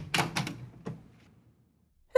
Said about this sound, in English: It was opened by a servant.